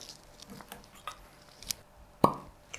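A single sharp pop sounds as the cork is pulled from a bottle of Kilchoman 2011 Oloroso sherry cask whisky. It comes after quiet handling rustles and small clicks and stands out clearly against a near-silent room.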